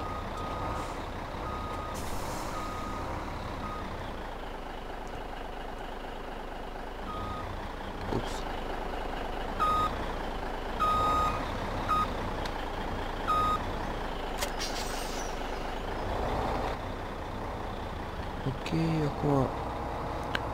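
Reversing beeps sound from a truck in Farming Simulator, a series of sharp electronic beeps over a rumbling engine and occasional air brake hiss, with some talk and game noise alongside.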